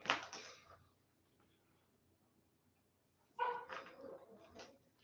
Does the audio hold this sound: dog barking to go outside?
yes